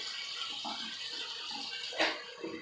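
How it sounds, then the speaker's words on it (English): Water runs softly from a tap in a brief steady stream, with a small splash near the end. "Then I can put some more water on here."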